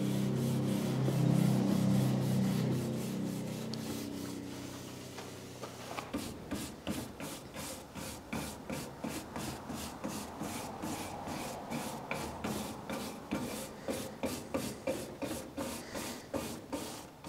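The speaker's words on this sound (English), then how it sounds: "So again, we're using the detail brush." A detail brush scrubbing stripped varnish out of the grain of an oak cabinet, steady rhythmic rasping strokes repeating about twice a second, close and fairly quiet, after a duller rubbing passage.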